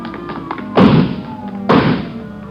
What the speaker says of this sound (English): he broke through the garage doors